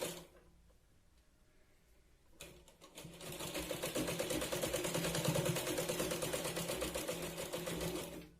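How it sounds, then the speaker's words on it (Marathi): A sewing machine stitches along the folded edge of a katori blouse, starting after a quiet lead-in and then running steadily and close by with a dense, rapid mechanical rattle for several seconds. "पूर्णपणे कडेने आपण याला शिलाई लावून घेतोय"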